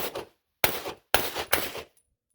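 Shots from a UTS-15 pump shotgun loaded from a drum, three sharp loud blasts spaced about half a second apart, each with a short decaying tail, preceded by the end of an earlier report.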